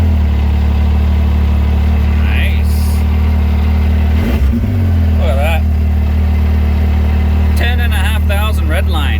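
A 2017 Yamaha YXZ1000R SS side-by-side engine idles close by, then revs up sharply and drops back to a steady idle, with people talking over it.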